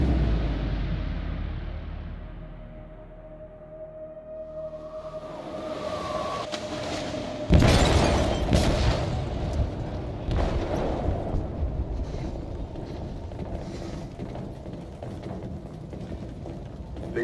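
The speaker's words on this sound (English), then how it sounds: "They detonated an explosive in the hold." Explosive detonating in a ship's hold in Detroit: Become Human, with a low rumble building before a sudden loud blast, then a long roaring, crackling aftermath with tense game music underneath.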